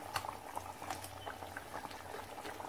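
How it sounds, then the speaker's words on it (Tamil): Thick palak paneer gravy bubbles and pops steadily in a pan, a close, quiet simmer of irregular gurgles. "இப்ப பாருங்க அது நல்லா கொதிச்சிருச்சு பாத்தீங்களா."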